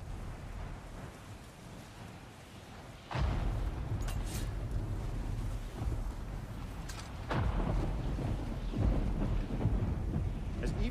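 Deep rolling thunder of an approaching storm in the video game God of War Ragnarök, low rumbles swelling twice over a steady rain-like wash, fairly faint and distant.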